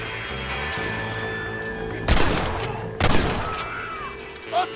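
Two sharp, loud gunshots about a second apart crack out during a duel in Red Dead Redemption, each ringing off over a quiet outdoor ambience.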